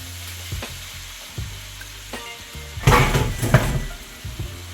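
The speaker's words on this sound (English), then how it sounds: "Saute our natural seasoning." Natural seasoning sautéing in a pot for Jamaican brown stew fish, with a lively close sizzle, stirring scrapes and a louder burst of frying midway, heard without talk.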